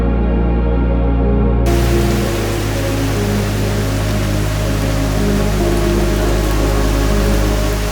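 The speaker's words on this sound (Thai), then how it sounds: "พอได้เวลาจะออกเดินทางกันต่อก็เอาอีกแล้วครับฝนเทลงมา หนักสุดๆเลยครับ" Heavy rain pours down steadily during a rainy motorcycle trip to Chiang Khan and Nam Nao on a BMW R 1250 RT, a dense, loud and continuous hiss with a low rumble beneath, with no speech.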